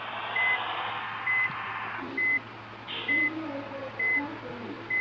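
A vehicle reversing in a video game gives a regular series of electronic beeps, about one per second, steady and moderately loud over a low engine drone, with occasional faint noises.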